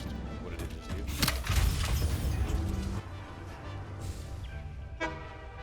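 A train in a video game sounds its horn, a brief tonal toot rising out of busy in-game rumble and background noise near the end, with a voice talking elsewhere in the clip.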